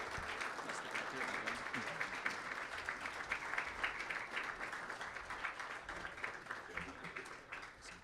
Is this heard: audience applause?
yes